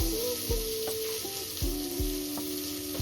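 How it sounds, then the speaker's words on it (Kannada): Onions with coriander and mint frying in oil for chicken biryani, a loud continuous close sizzle with a few low knocks and scrapes from stirring, no voices. "ಈರುಳ್ಳಿ ಹಾಕಿ ಗೋಲ್ಡನ್ ಬ್ರೌನ್ ಬರೋ ತನಕ ಫ್ರೈ ಮಾಡಬೇಕು."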